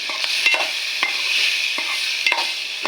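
Cut potatoes fry in a pan of snails with steady, soft sizzling, broken by several sharp scrapes of stirring. No one speaks.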